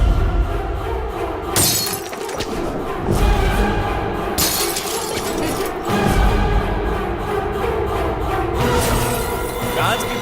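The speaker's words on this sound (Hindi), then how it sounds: "कांच की बोतलों का यही तो प्रॉब्लम है, टूट जाती हैं।" Glass bottles shatter and break in a comedic Hindi film scene, with a few sharp crashes and clinking debris, loud against background voices and music.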